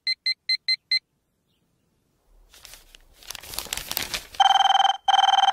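Five quick electronic beeps, a pause, then crinkling rustle before a loud, sustained electronic phone ring sounds twice.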